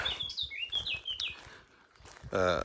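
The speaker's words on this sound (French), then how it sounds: "Le deuxième oiseau qui me dit bonjour." Small bird chirping nearby in a series of short, high tweets and rising calls, fairly clear, followed by a brief louder burst of sound at the end.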